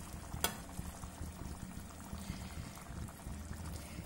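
Egg gravy (muttai kulambu) simmering in a pan, a soft, steady low bubbling and sizzling that runs throughout, with one brief sharp click near the start; no one speaks.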